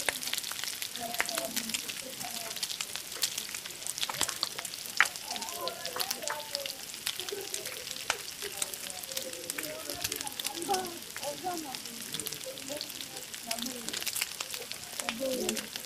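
Mikate dough fritters frying in hot oil at a market stall in Kinkole, with a steady dense sizzle and crackle throughout, nearby bubbling pops and a few faint voices underneath.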